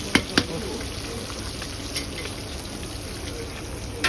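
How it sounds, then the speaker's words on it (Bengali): Katla fish fry in hot oil with a soft, steady crackling sizzle, fairly faint and close, broken by a few sharp clicks and taps from utensils. "মাছগুলো কিন্তু অলমোস্ট ভাজা ভাজা হয়ে গেছে"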